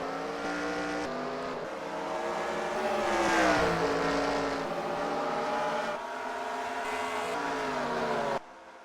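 Simulated race car in a racing video game accelerating at California Speedway, a loud continuous engine drone with rising pitch as it gets up to speed, swelling around the middle before cutting off sharply near the end.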